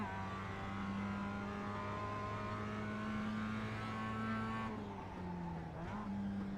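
A race car in the iRacing sim at Tsukuba screams at full throttle, a loud, steady engine tone holding for several seconds before a brief dip and shift near the end, then pulling again.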